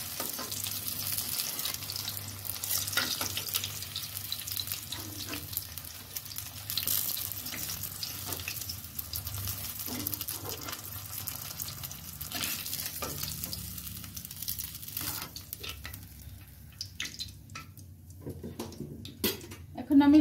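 Cabbage pieces for a Bengali cabbage dish frying in oil until browned, with a steady sizzle and occasional stirring scrapes throughout, some faucet-like water noise mixed in, quieter toward the end.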